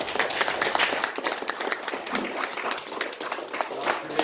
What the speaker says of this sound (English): give them a hand and clap of praise this morning.